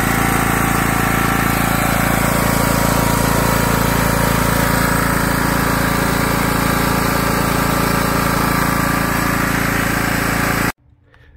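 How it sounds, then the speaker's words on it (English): A zero-turn lawn tractor engine runs loud and close with a steady drone, then cuts off abruptly near the end. "It's a nice personal zero turn lawn tractor."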